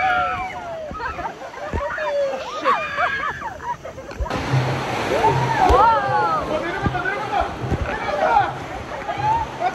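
Water splashes from an amusement park ride at Everland in South Korea, a rushing, sloshing wash that swells midway, under excited voices and a lively crowd.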